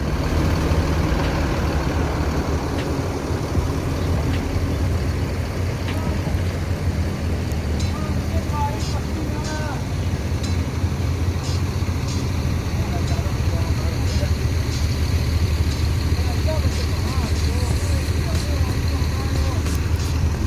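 An ANS bus named Mikaela, Ventura edition, idles with a steady low diesel rumble that continues unbroken for about twenty seconds, close by, while someone talks over it.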